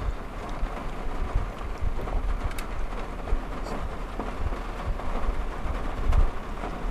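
Rain falls outside, sometimes heavy, as a steady broadband patter with scattered small drops and taps, fairly close and continuous with no talk over it.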